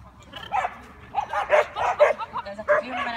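A Portuguese water dog at a dog competition gives a run of short yips and barks, close and fairly loud, with brief pauses between them.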